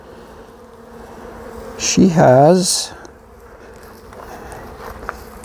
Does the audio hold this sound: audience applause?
no